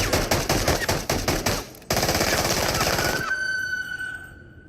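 Gunfire from the video game Into the Radius: rapid, loud automatic bursts in a steady rhythm, then a sharp shot and a dense ringing stream of fire that fades out at the end.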